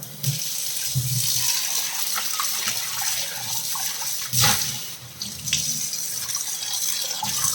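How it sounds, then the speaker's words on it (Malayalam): Water runs steadily from a kitchen tap as items are rinsed and washed in the sink, with a continuous close splashing stream and occasional louder splashes as things move under the flow. "അപ്പോൾ നമുക്ക് ആദ്യം ഒന്ന് വെറുതെ കഴുകാം"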